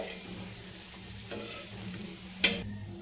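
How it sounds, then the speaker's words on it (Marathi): Coriander vadis (kothimbir vadi) frying in oil on a griddle, a soft steady sizzle with faint spattering, close and quiet, with one sharp clack of a utensil near the end and no voices. "एवढ्याच वड्या मी फ्राय करणार आहे"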